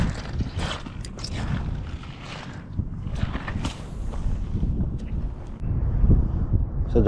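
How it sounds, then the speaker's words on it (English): Wind blowing upstream along the Susquehanna River during a smallmouth bass fishing trip, a steady low rumbling buffet across the microphone with gusts building louder toward the end, and faint handling noises above it. "So the wind's at my back blowing upstream."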